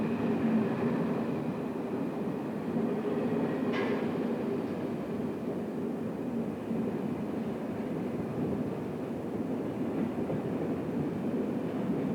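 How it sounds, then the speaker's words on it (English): A Swiss express train hauled by an RE442 electric locomotive rumbles steadily past as it departs, a continuous low roar of wheels and motors with a brief high squeal partway through. "an intercity express train headed by an RE442 departs for the Italian border"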